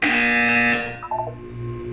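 A loud, harsh electronic buzzer in the video game Portal 2 blares close for about a second, then cuts out and gives way to lower humming game tones.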